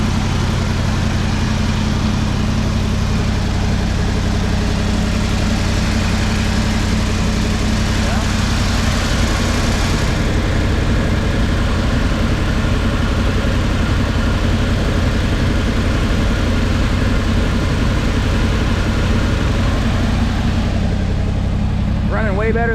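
A 1979 Ford F-150 V8, freshly tuned and smoking, idles steadily at close range for the whole stretch, a loud continuous low rumble with no break.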